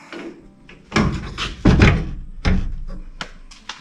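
Hinged door on an outdoor portable water pump enclosure being shut, giving several close, solid thunks and knocks with a few lighter clicks of latches between them, no talking.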